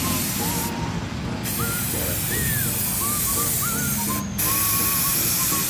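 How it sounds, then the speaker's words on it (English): Steady, loud hiss of an aerosol spray paint can spraying into water for skateboard hydro-dipping, running continuously, with brief cutoffs and faint squeaky chirps in the background. "You just spray into the water, okay?"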